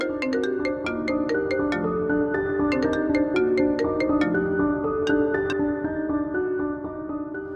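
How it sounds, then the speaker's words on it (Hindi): A telephone ringtone plays a bright, repeating electronic melody, loud and steady throughout with no voices over it. "आपका फोन है।"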